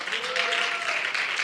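A church congregation breaks into applause, a dense, continuous wash of many hands clapping at once that stays loud and even for the whole moment.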